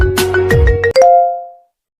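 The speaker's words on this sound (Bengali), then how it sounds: "কে ফোন করলো? নতুন নাম্বার।" A phone sounds an incoming-call ringtone, a short run of bright electronic notes that ends on a sustained tone fading away into silence.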